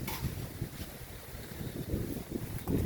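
Strong wind gusts outdoors, buffeting the microphone in a steady low rumble with rising and falling surges throughout, loud and close with no voices over it.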